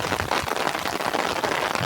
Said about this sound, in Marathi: हा जोरदार पाऊस आलाय